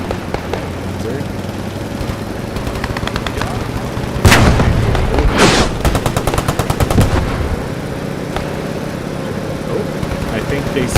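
Gunfire with a Panzer tank in the video game Squad 44: rapid machine-gun bursts rattling in clusters over a low engine rumble, with one loud heavy blast midway and voices talking throughout.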